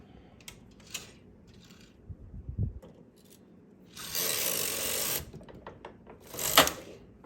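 A knitting machine carriage sliding across a row of yarn, a steady mechanical whir lasting about a second with a later shorter rasp and scattered small clicks, close and moderately loud.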